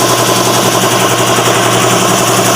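A 2016 Toyota Vios gasoline engine runs loud and close with a rough, clattering knock like a diesel, a steady dense rattle without pause.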